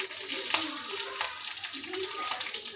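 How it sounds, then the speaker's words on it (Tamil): Curry leaves and a dried red chili sizzle sharply in hot oil, a bright crackling hiss close to the pan, with faint speech-like murmurs underneath. "இப்போ கருவேப்பிலை போட்டு ஒரு வரமிளகாய் போட்டுருவோம்."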